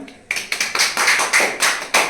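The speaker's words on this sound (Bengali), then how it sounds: "তো ওনার জন্য সবই একটা হাততালি দিবেন" Brief applause for a quiz winner: a few seconds of close, sharp hand claps in quick uneven bursts, loud and alone with no talking.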